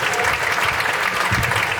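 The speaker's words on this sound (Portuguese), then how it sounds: "Uma salva de palmas para Jesus." A church congregation claps together during a service, dense and loud applause close by with no break.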